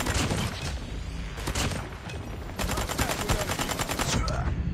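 Striker SMG fire in a Call of Duty Hardpoint match comes as loud, rapid automatic bursts, ending in a sustained rattling stream. Game effects sit underneath, and a player's voice is faintly present.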